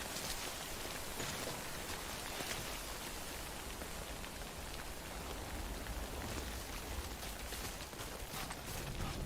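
Timefall rain in Death Stranding, a steady dense hiss of falling rain pattering on surfaces, continuous and fairly faint, with no voices.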